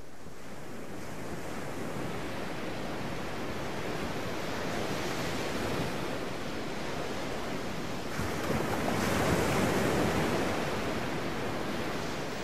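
Sea surf along the Frisian coast rushes steadily, with waves swelling and breaking in a continuous wash mixed with wind noise, heard alone.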